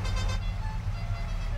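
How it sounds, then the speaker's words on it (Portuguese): A GTA-style car horn blares in short bursts in Farming Simulator 22, over a steady low engine rumble of a Toyota Bandeirante, loud and close, with no talking. "Ah, não, buzina do GTA."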